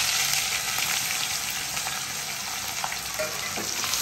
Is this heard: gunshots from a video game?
no